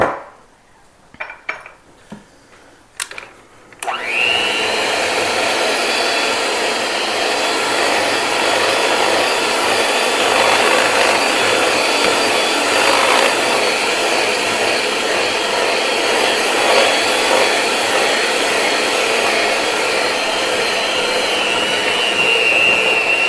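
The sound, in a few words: electric mixer mixing chocolate cake batter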